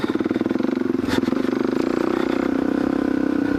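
A Kawasaki KLX470 motorcycle engine thrums while riding through the desert, a close, steady throbbing with rapid regular pulses and a brief rise in intensity partway through.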